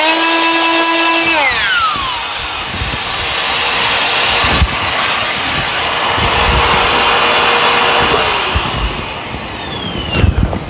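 A vacuum cleaner sucks hair out of a disassembled Dyson Ball Animal part, a loud steady motor whine that starts up, settles into a constant roar, then its pitch shifts as the nozzle is moved around.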